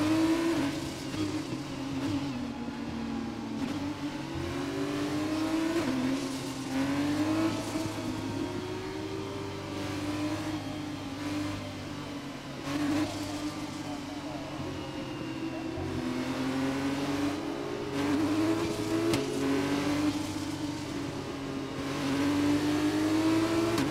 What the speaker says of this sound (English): I will say the Formula 2 cars, the gear changes, etc. It just sounds so much better than the Formula 1 cars do.